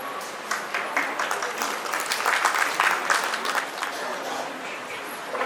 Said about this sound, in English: Please join me in giving a huge round of applause as we warmly welcome our esteemed guest